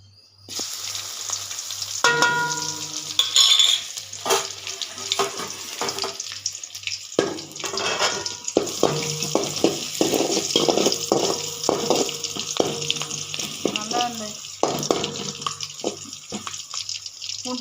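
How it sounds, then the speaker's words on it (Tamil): Crushed garlic and curry leaves hit hot oil for a spicy crunchy puffed rice snack, giving a loud, sustained close sizzle with intermittent scraping and stirring clatter throughout. "எண்ணெய் காஞ்சிருச்சு தட்டி வச்சுருக்க பூண்டையும் கருவேப்பிலையும் போட்டு நல்லா வணக்கலாம்"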